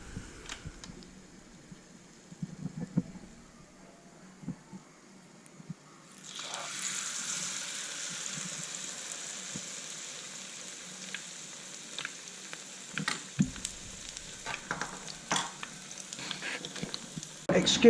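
Shrimp fritter mix hits hot olive oil and starts a steady, close sizzle, with an extractor fan running and scattered clicks and pan knocks over the frying.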